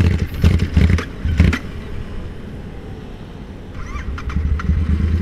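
Royal Enfield Interceptor motorcycle engine running close by, with throaty low-end bursts and revs in the first two seconds, a quieter idle through the middle, then a renewed rumble near the end; no voices.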